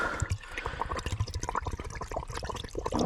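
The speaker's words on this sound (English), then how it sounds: "fill this bottle up here for the pre-treat" Rinseless car-wash solution pours into a bottle for pre-treating a Range Rover, a steady gurgling, splashing fill with small drips, close and moderately loud, with no talking.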